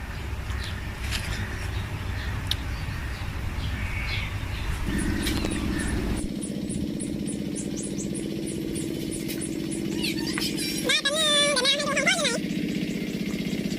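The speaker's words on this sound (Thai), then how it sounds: "ได้ยินเสียงรถไถนะคะของแฟนค่ะกำลังขับมาแล้วค่ะ" A small walking tractor engine chugs steadily with a low, rumbling drone that grows fuller partway through as it approaches, while faint chirps come and go in the background.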